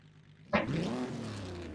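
Auto Union Type C race car engine in Assetto Corsa on pre-war Spa-Francorchamps suddenly roars to life after a quiet start, then revs up steadily with a rising, rasping tone that stays loud and close.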